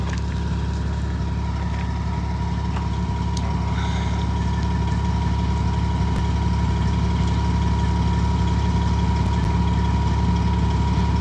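A pickup truck rigged for sled pulling, with a welded rear differential, running steadily through a wheelie. Its engine gives a loud, continuous low rumble at an even idle-like pitch with no talk over it.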